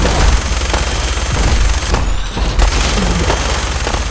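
Grenade blasts in the video game Fallout 4 boom loudly in a dense, continuous barrage of rumbling explosions and gunfire lasting the whole few seconds.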